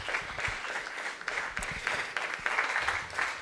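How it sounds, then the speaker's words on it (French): An audience at a healthcare innovation day conference applauds with steady, moderately loud clapping and occasional individual sharper claps standing out. "applaudissons-les s'il vous plaît"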